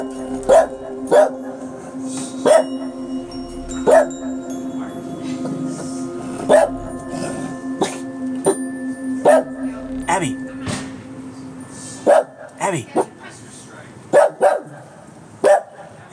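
A dog barks in sharp, repeated bursts spaced a few seconds apart on a snowy day, fairly close, over a steady background hum with some talking.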